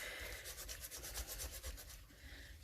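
A die-cut card piece being burnished by hand, producing a steady close-up rubbing and scraping sound with quick repeated strokes, with no voices.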